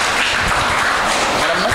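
Applause from a school audience during a quiz game at Coumba Ndoffene school's 2023 games, a short, dense burst of clapping filling the room at steady loudness with no pause.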